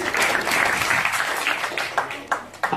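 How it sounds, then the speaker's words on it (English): An audience claps for a young woman at a confidence-building seminar, with steady, fairly loud applause that thins into a few scattered claps while a voice speaks over the end. "we're going to applause for her"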